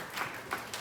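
Brief burst of audience applause at an event honouring the Director of Academic Planning at the University of Harcourt; a short run of claps rises and falls in uneven waves, fairly close and moderately loud.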